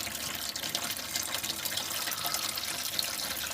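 A steady stream of green engine coolant drains from a Honda J35 V6, pouring and splashing continuously, a close, even rushing patter with no pauses.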